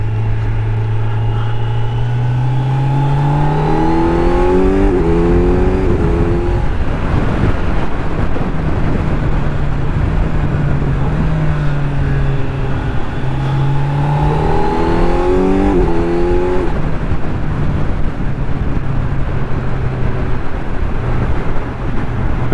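Kawasaki Z900 SE 2025 motorcycle on its stock exhaust while being ridden, the engine rising and falling through two clear rev sweeps under steady wind rush, loud and close throughout.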